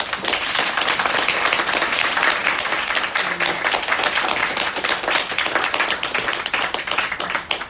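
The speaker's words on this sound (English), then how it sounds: "And so with that, a round of applause." Audience applause at an artist-in-residence meet and greet, a sustained, full burst of clapping from a crowd lasting several seconds, with no talk over it.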